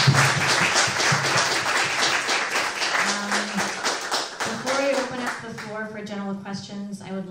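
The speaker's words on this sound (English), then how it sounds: "Big round of applause for" An audience at a panel talk gives a round of applause, steady scattered clapping that fades out under a speaker's voice near the end.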